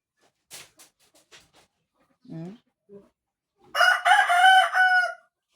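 A rooster crows loudly and close, one long ringing cock-a-doodle-doo near the end, preceded by a few faint clucks and soft sounds.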